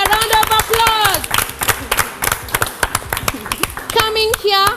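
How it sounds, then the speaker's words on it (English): Scattered clapping from the audience at a school quiz competition between Gendia High School and Ranen Adventist Secondary School, mixed with loud voices and tonal calls that ring out over the claps at the start and end. "A round of applause."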